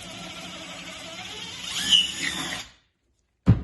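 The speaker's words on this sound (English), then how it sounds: "use a very long drill and drill through this one and this one right here" A very long power drill bores through a block of wood, whining and grinding steadily for over two seconds, rising briefly as it pushes through. It then stops dead, and a single sharp knock follows after a short silence.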